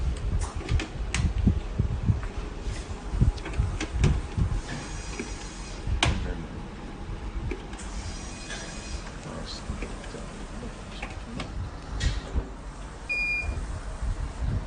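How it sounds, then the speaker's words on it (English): A URIT-5160 fully automated hematology analyzer starting up and priming reagent, giving off a steady mechanical whir with soft clicks, pump noises and a brief beep, while a person talks over it. "Now analyzer is priming the reagent"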